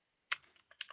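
Typing on a computer keyboard while writing an SQL query, a few quiet, close keystrokes clicking in a short irregular burst after a moment of silence.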